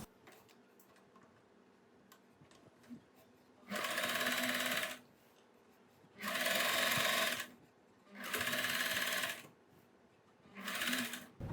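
A sewing machine top-stitches a side pocket on a churidar in four separate bursts of rapid mechanical stitching, each a few seconds long, separated by quiet pauses with faint handling noise.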